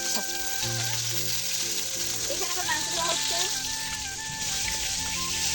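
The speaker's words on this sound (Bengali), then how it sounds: "আমাদের এখন মাছ ভাজা হচ্ছে" Fish frying in a pan crackles and sizzles continuously at close range, loud and even, while muffled voices and other household sounds carry faintly in the background.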